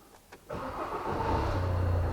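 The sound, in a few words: car engine starting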